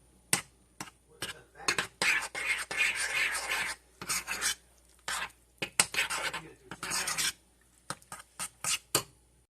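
Cupcake batter with vanilla being mixed in a bowl, rapid bursts of scraping and clinking as a utensil whisks against the sides, uneven rhythm with brief pauses, close and moderately loud.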